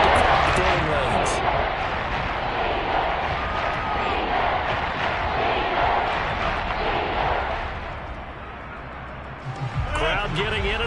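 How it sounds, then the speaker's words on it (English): Video game American football stadium crowd roars in a broad, steady wash throughout, dipping briefly near the end before swelling again, with a commentator's voice faintly over it. "Crowd getting in it a bit already"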